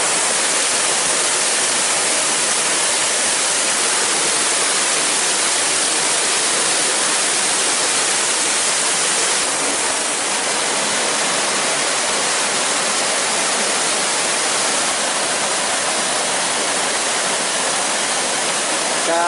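Waterfall in the Quebrada del Batán, Córdoba, Argentina: a steady, loud, broadband roar of falling water that runs unbroken the whole time, with no voices heard.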